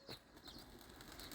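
Pigeons burst into flight on a farm, a quick flurry of flapping wings lasting under a second, fairly close, followed by a sharp sound at the very end.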